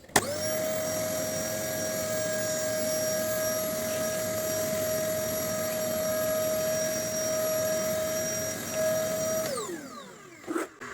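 A vacuum cleaner fitted with an AliExpress cyclone separator roars steadily as it sucks up wood shavings, a loud continuous whine with a high tone that winds down and stops near the end.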